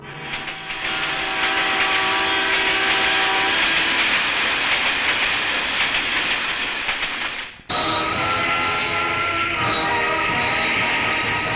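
Film sound effect of a train pulling out of a station, a loud steady rumble and clatter of rail cars with hiss, continuous throughout with a brief dip near the end before resuming.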